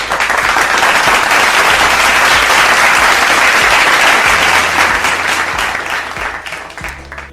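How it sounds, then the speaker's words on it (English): A studio audience on a finance talk programme applauds a welcomed guest, the clapping loud and full for several seconds and then gradually thinning and fading toward the end. "An applause for her."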